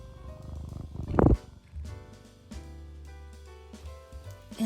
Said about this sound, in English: He's my big kitty cat.